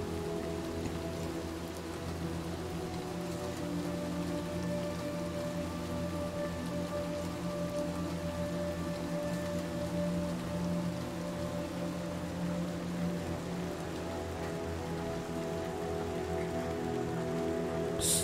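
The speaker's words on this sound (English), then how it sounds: "Still raining." Steady rain in Little Nightmares 2 pattering on a surface throughout, a dense, even hiss with a low rumbling bed beneath, no voices.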